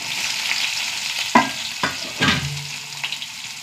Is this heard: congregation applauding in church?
no